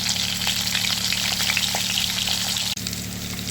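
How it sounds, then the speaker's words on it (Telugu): Indian gooseberries (amla) sizzle steadily in a hot pan while cooking for pickle, a loud dense frying crackle close up, with a brief stir-like clunk near the end. "ఇప్పుడు ఉసిరికాయలు మగ్గుతున్నాయి కదండి"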